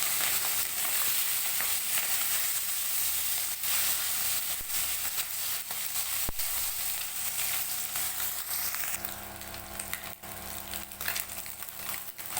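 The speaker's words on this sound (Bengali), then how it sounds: "মাছগুলো ভেজে নেব।" Fish frying in hot mustard oil in a pan, a steady close sizzle and crackle that continues for the whole stretch with no talking.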